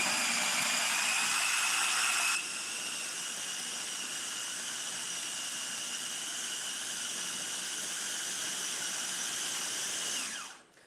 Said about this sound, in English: If you don't want to hear the blender, go ahead and mute me.